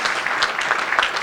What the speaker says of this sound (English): we can give a round of applause for that